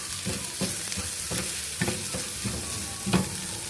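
A spoon works through a spice mixture of cumin and coriander powder in a hot pan, giving repeated close scraping strokes over a low sizzle, brisk and rhythmic, with no talking.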